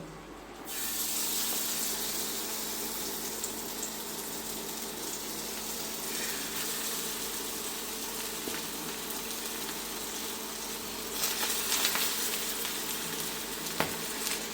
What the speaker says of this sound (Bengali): মাছগুলি আস্তে আস্তে ভাজা হবে